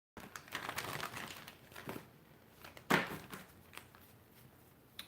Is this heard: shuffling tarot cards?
yes